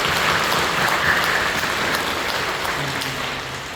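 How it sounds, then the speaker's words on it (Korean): A church congregation applauds together in a large worship hall, a dense wash of clapping that holds steady and then slowly fades near the end. "우리 격려하며 박수해 주시죠."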